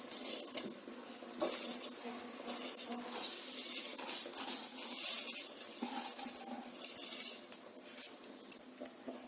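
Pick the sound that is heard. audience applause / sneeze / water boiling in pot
water boiling in pot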